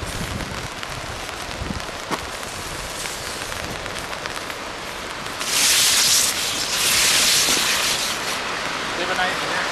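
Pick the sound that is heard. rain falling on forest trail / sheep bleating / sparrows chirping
rain falling on forest trail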